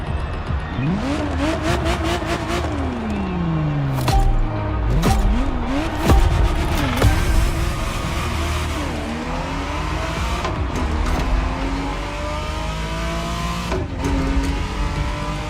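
Ferrari Testarossa engine in The Crew Motorfest racing game, revving up and down loudly and continuously across gear changes, with tire squeal and other game car sounds mixed in.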